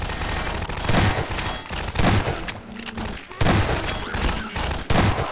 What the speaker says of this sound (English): He's trying to shoot me, I think.